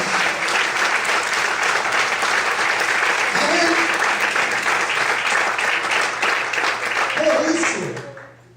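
Sustained church congregation applause, loud and dense, carrying on for several seconds with voices faintly mixed in, then fading out at the end.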